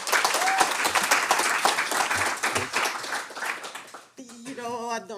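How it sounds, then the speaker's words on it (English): Warm applause from a conference audience welcoming a speaker, dense steady clapping for about four seconds before it stops and a voice begins talking. "So please give her a really warm round of applause."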